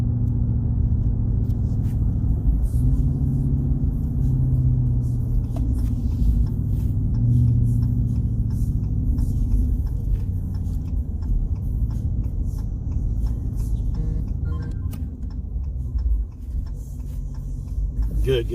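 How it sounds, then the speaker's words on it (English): A Hemi engine rumbles low and steady while driving, a continuous deep drone heard from inside the vehicle, with someone talking over it. "Yeah, that's that Hemi you hear."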